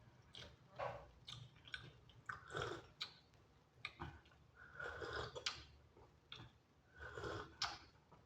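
Soft, close chewing of a mouthful of biryani, with irregular moist bites and squishy mastication sounds repeating quietly throughout, with no talking.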